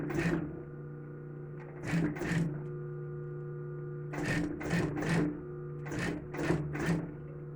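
A sewing machine stitches a small fabric phone bag with a zipper, a steady mains-like motor hum punctuated by short rapid bursts of stitching, close and fairly loud, with no talk.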